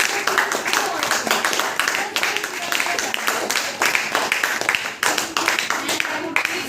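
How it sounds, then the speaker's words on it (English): An audience claps steadily through a debate competition, a dense patter of many hands that continues with only slight dips in intensity and no words spoken. "So clapping for Team B as well as for Team C also."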